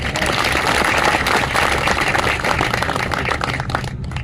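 A crowd of spectators at a market-yard event applauds in a dense, steady burst of many hands clapping at once, loud and sustained throughout without any voices.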